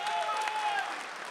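Brief, steady audience applause at an NFT event in New York, a close, dense patter of many hands clapping together with a few voices mixed in.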